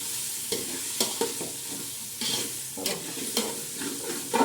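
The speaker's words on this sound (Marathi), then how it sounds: "आपण असं चांगलं असं हलवून घेणार आहे" Biryani pulao masala being stirred in a pan, a soft sizzle broken by about eight distinct scraping strokes of a spoon at an uneven rhythm, close and alone.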